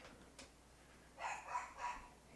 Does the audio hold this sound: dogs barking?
yes